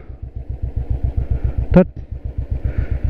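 A motorcycle engine thumps in a steady, close, loud rhythm as the bike rides onto a suspension bridge on a rough mountain route, with a brief sharp metallic clank partway through.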